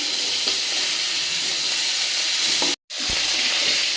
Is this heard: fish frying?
yes